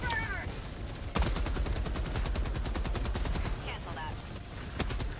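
Gatling sentry in the Helldivers 2 video game firing a long, dense stream of rapid rounds close by. Battle noise and faint voices sit underneath the fire.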